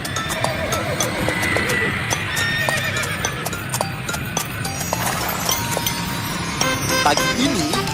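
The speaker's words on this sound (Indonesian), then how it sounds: "Naik kendaraan yang ditarik oleh seekor kuda." Horse pulling a carriage on a street, with rhythmic clip-clop hooves and a loud whinny, plus faint traffic and a brief car toot in the background.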